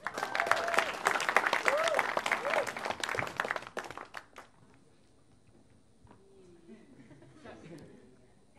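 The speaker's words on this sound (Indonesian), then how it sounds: "tepuk tangan buat Gian" A studio audience at an Indonesian stand-up comedy battle claps loudly for a comedian for about four seconds, with whoops and cheers mixed in. The applause then cuts off, and quiet voices and faint stage noise follow.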